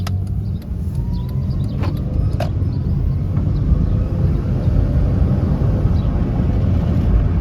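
A car being driven on the road after a transmission fix-product treatment, heard from inside as a steady, loud low rumble of road and engine noise with a few faint knocks over the top.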